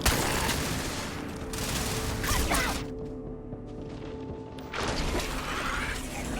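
Gunfire in the Starfield video game comes as dense, continuous bursts and crashes of weapon fire, easing briefly in the middle before resuming loud and close.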